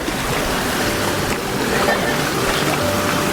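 Waves wash steadily against a boat out at sea, a loud continuous broadband rush of water and wind with no break across the few seconds.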